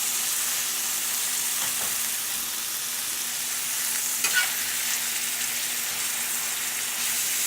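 Green and red bell peppers with chopped onion sizzle steadily in a hot skillet, a constant dense frying hiss with occasional stirring clatter, close and even throughout.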